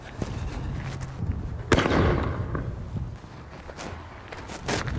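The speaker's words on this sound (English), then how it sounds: "this firework produces quite a bang" An artillery shell firework launched from a cannon gives one sharp, loud bang with a burst of crackling decay, amid outdoor rustle and a few faint footstep-like thumps.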